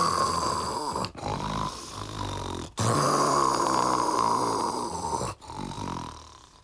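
A wolf snores loudly as a sound effect in a Little Red Riding Hood story, with three long, rasping snores separated by brief breaths, near and heavy.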